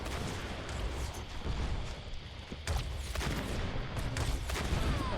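Gunfire crackles through a shooter video game match, dense bursts of shots and booms layered continuously over a busy battlefield backdrop with a sharper volley partway through.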